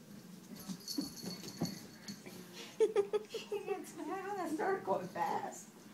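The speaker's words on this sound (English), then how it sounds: "He was growling at you." A dog makes short, low throaty vocal sounds close by while people talk over it throughout.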